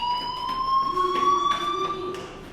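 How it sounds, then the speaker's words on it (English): Fire alarm ringing inside the game Life Is Strange, a loud steady electronic tone with a faint pulsing under it, sounding alone and without talk. "do you hear that fire alarm? That means you should be outside."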